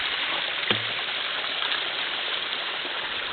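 A small creek behind a house flows with a steady, broadband rushing and gurgle, close and continuous, with a single faint knock or step in the water early on.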